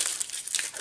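Plastic packaging around a set of Hip Kit Club scrapbooking cards crinkles and crackles steadily at close range, a brief bright rustle with no talking.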